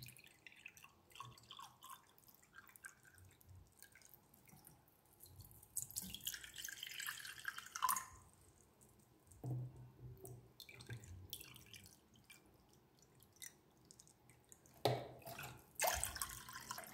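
Water from a tap runs and drips into a pot while a clove hair spray is made, with splashy bursts around the middle and the end and no talk.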